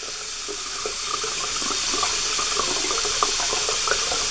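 Hot water runs steadily from a tap into a bathroom sink, a continuous close rushing stream with no talk over it.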